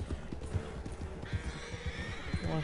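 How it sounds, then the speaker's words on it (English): Wild horses in the Red Dead Online video game, with steady hoof clip-clop and whinnying neighs rising near the end, heard up close over a busy game soundscape. "Those are some wild horses."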